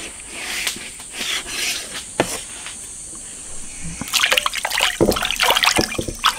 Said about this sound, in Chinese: 先把它洗一下，把上面那个皮，这皮是烧过的，把它洗一下，洗干净